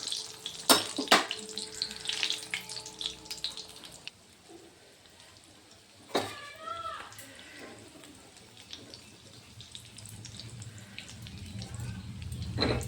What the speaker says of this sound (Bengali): এই যে দুটো হয়ে গেছে, এগুলোকে আমি লাল লাল করে ভেজে নেব।